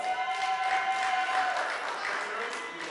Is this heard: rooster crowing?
no